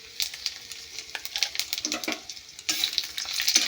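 Whole spices (cumin, panch phoron, dried chilli and bay leaf) hit hot oil in a kadai, crackling and spitting in quick irregular pops with stirring scrapes, then surging into a louder, denser sizzle near the end.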